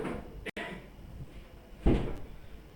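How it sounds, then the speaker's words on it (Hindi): A door in a classroom is shut with a soft thud near the end, after a quieter knock or click earlier, while faint voices murmur in the room. "बंद कर दो दरवाज़ा प्लीज़"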